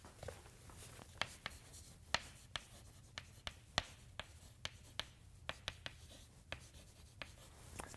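Chalk or marker tapping and scraping on a board while equations are written out, a series of sharp, separate clicks and short strokes in an uneven rhythm, close and clear over quiet room noise.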